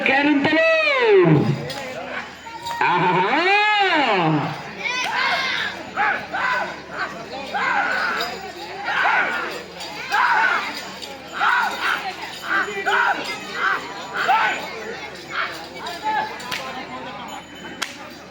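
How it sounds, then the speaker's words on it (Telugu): Spectators at a six-teeth class bull race in Nallagunta shout and whistle loudly; rising and falling whistles dominate the opening seconds, then give way to a chaotic stretch of yelling and cheering voices. "కేకలు విజిల్లు"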